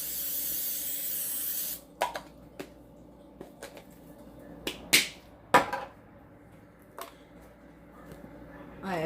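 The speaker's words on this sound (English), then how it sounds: "Another spray real quick." A short burst of cooking spray hisses over frozen vegetables, then stops, followed by scattered clicks and light knocks.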